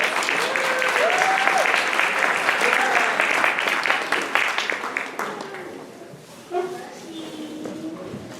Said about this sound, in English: Let's give a big round of applause for our judges.